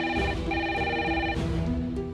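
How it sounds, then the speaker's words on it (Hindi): A telephone rings indoors with a steady electronic warbling tone, repeating in short bursts across the whole moment, fairly close and clear with no talking over it. "मोहन, मोहन देखो किसका फोन है।"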